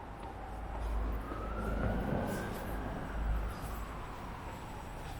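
A distant reversing ambulance siren wails with a slowly rising and falling tone over steady low traffic rumble on a London street in Mayfair, faint and continuous.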